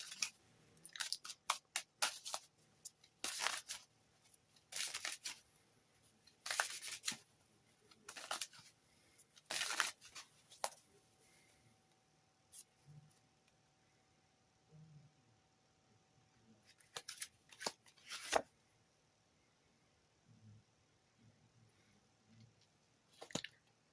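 Tarot cards are shuffled and drawn from a deck in a quiet room, producing clustered bursts of papery riffling and flicking separated by stretches of near silence, faint and close.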